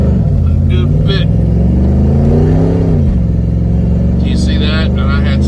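A 1992 Camaro fitted with a Corvette transmission servo pulls hard on a wet road, engine roaring loud and close as revs climb, drop at a gear shift and rise again, with a voice talking over it.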